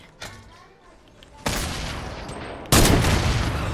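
Gunfire in a video game: a brief pop, then two loud, dense bursts of shots starting around 1.5 and 2.7 seconds that roar on to the end, close and harsh, with no clear talk over them.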